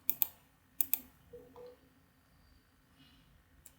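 A few faint clicks on a computer keyboard, pressing Ctrl, Shift and Enter while working in wxMaxima, land as two quick pairs of light taps followed by near silence.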